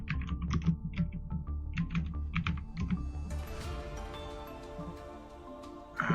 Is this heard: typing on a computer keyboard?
yes